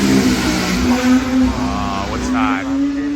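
A 1960s–70s tribute Subaru at the Goodwood motorsport event revs loudly and close by, a steady engine drone with rising pitch sweeps, while people talk nearby.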